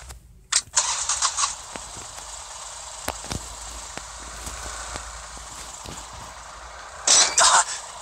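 A vehicle engine starting in the mobile shooter game Rules of Survival: a short burst of revving, then a quieter steady hum with faint clicks, and another loud engine burst near the end.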